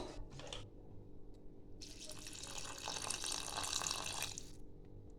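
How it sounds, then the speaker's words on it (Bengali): Hot water poured into a thin mutton curry in a pot, a steady splashing gush that swells for a few seconds and then stops, heard close with no one talking. "এখানে আমি জল দিচ্ছি গরম জল।"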